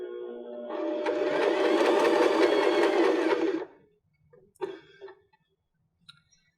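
A BL9 sewing machine stitches a buttonhole with a loud, dense mechanical whir for nearly four seconds, then stops, followed by a few faint clicks and small handling taps.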